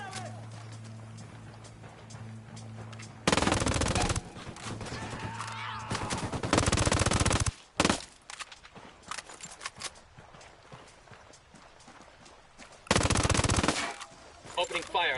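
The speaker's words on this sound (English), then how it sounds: "Opening fire on these fuckers." Rapid bursts of machine-gun fire from a PS4 video game, several loud volleys separated by pauses, with quieter game sounds in between.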